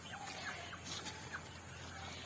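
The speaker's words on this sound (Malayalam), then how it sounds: "ഇതാ ഇവരാണ് നാടൻ കോഴിക്കുഞ്ഞുങ്ങൾ" Native chicken chicks give faint, scattered high peeps and chirps, a few soft calls over a low steady background.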